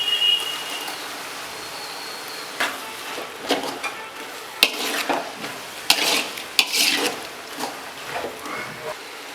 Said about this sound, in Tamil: அதை அது கூட மிக்ஸ் பண்ணிக்குவோம்